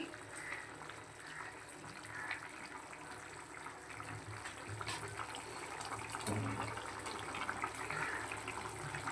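Curry liquid boils in a pot with raw prawns about to go in, a soft continuous bubbling and watery rush heard faintly and close, with no voices.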